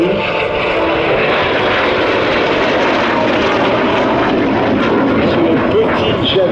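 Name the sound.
F-86 Sabre jet flying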